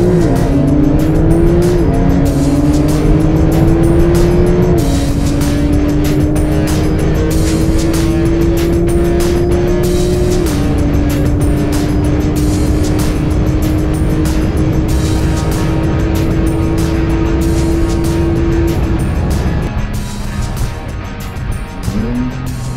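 Porsche 992 Turbo S accelerates flat out, its engine tone climbing through long gear pulls with brief shift breaks, a loud continuous roar heard from inside the car and fading off near the end.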